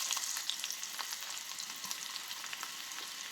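Chopped large onion sizzles in hot oil in a Kerala-style kitchen while a mussel curry is prepared, a steady bright crackle and hiss throughout with small popping spits, close up and with no talk.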